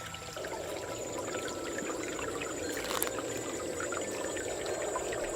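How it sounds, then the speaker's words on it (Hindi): Water flows and trickles in a pond with a steady, close pouring rush and bright splashy texture, continuous and unbroken with no talking. "इसी दिशा से पानी के चलने की आवाज़ आ रही है।"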